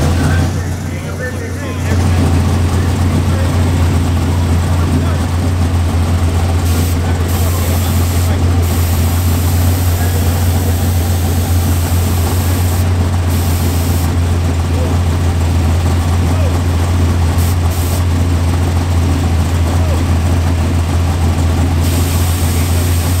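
A big-wheeled donk car idles at a drag race strip, its deep, steady engine rumble loud and close alongside crowd and track ambience.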